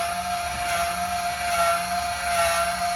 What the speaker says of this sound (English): Once the feet contact the ground, you're going to hear the motor wind up